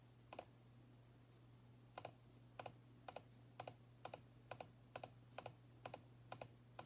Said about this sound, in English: I'm double clicking.